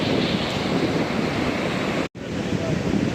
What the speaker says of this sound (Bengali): আর আজকে সাগরটাও খুব বাতাস উত্তাল